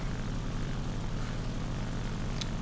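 Ki-84 Hei propeller fighter in the War Thunder game building speed on its takeoff run, a steady, loud engine drone with constant rumble and no talk.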